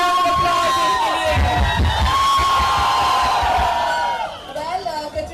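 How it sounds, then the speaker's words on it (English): Crowd at a Kalyan Jewellers store opening event in Guwahati cheering, whooping and yelling loudly and continuously, a dense mass of voices with shouts rising over it before easing near the end. "So a big round of applause इनके लिए."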